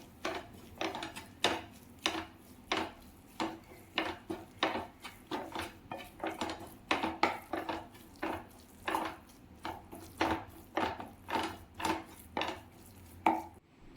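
Chicken and tomato ketchup are stirred in a pan with a spatula, which scrapes and knocks the pan in a steady rhythm of about two strokes a second, close and fairly quiet.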